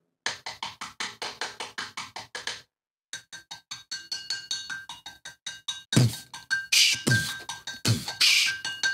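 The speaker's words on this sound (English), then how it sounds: "tapping the side of your Dixon Ticonderoga HB Soft No. 2 pencil on the edge of your desk" Wooden Dixon Ticonderoga HB Soft No. 2 pencil tapped against the edge of a desk, a fast steady run of sharp close taps with a short pause, then ringing, pitched knocks that grow louder and more resonant toward the end.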